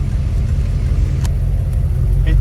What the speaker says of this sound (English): We're at idle right now.